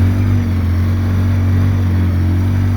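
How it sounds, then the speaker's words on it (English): Engine of a 2013 Polaris RZR 800s idling steadily with a deep constant hum and a faint high whine, loud and close, no speech. "Motor sounding okay."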